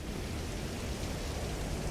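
Rain falls over Glasgow in the flight simulator MSFS 2024, around an ATR 72-600 airliner parked on the ground. It is a steady, even, low hiss of rainfall with no breaks and no voices.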